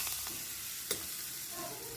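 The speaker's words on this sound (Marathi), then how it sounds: "ही फोडणी आता आपण केसावर घालूया" Hot tempering oil with asafoetida, turmeric and chilli powder poured over colocasia leaf curry, giving a faint, steady sizzle with a brief sharp crackle partway through.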